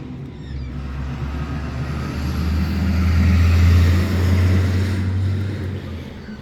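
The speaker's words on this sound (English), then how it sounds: "Excuse the noisy truck." A heavy truck rumbles past close by, its low engine drone swelling to a peak in the middle and then fading away.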